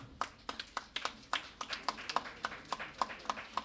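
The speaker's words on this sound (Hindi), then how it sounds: "जोरदार तालियां।" Audience applause at a felicitation ceremony during a nine-day Jashn-e-Iqbal celebration in Aurangabad, heard as a run of sharp, scattered claps that rise and fall in waves, moderately near, with no voices over it.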